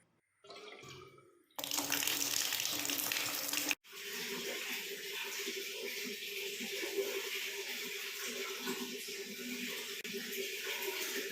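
Domex floor cleaner poured onto a bathroom floor, heard as a steady running, splashing liquid stream that starts abruptly, cuts briefly, then continues at moderate level to the end.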